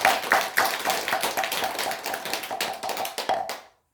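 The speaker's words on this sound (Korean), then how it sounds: "우리 모든 분들을 위해서 큰 박수 한번 부탁드립니다" A Buddhist temple congregation claps together in dense, steady applause for about three and a half seconds, then the clapping stops abruptly.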